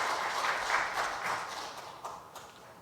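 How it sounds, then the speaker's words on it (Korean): A church congregation claps in encouragement and welcome for new youth and media ministry staff. The applause is moderate and fairly distant, swelling early and then thinning into scattered, separate claps. "격려와 환영의 박수를 맞아 주시기를 바랍니다."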